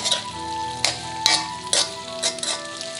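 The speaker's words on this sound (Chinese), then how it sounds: "炒出香味，30秒左右，加入羊肉" Lamb sizzles with cumin and garlic in a pan while being stir-fried, a close, steady hiss broken by several sharp scraping stirs and clinks at irregular intervals.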